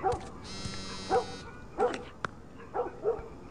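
A dog barks outside in The Last of Us, several separate woofs spaced about a second apart, moderately distant, with a brief buzzing tone and a sharp click in between; no talking.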